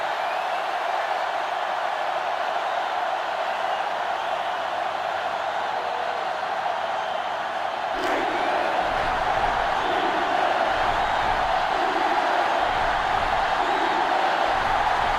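A stadium crowd in the NCAA Football 2005 video game during a Notre Dame versus Clemson matchup gives a constant low roar, swelling into louder rumbling cheers partway through.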